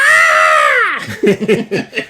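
A voice imitates a Godzilla scream with a long, high, wavering roar that slides downward, then breaks into a few short laughing or chuckling bursts.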